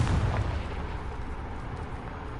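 A Confringo spell explosion in Hogwarts Legacy, a deep, loud boom that breaks out at once and then rumbles on steadily without fading much.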